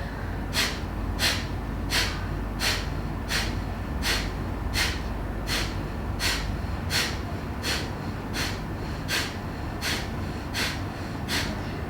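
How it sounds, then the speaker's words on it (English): Steady, rhythmic breathing exercise: a series of about fifteen sharp, forceful nasal exhalations at an even pace, close to the microphone over a low background hum. "breathing in and then exhaling sharply through our nose"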